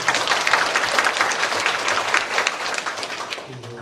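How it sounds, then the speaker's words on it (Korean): Church congregation at a Methodist service breaks into dense, sustained applause, many hands clapping together loudly and evenly before tapering slightly at the end, with no talk over it. "다시 한번 박수 힘차게 쳐주세요."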